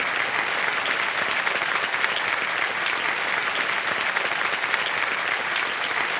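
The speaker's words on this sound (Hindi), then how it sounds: "ताली बजते रहे" A studio audience on the KBC quiz show applauds steadily, a loud, even roar of many hands clapping that holds throughout without a break.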